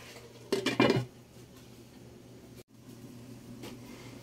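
Metal lid clattering onto a cooking pot of shrimp and kangkong, a short cluster of bright clanks near the mic, followed by a quiet kitchen hum.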